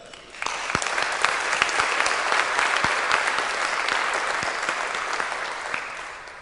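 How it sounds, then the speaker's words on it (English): Steady audience applause fills a room at an awards dinner for an MBA case competition, starting abruptly and holding as dense, moderately distant clapping before easing slightly at the end. "So big round of applause for you at FEI."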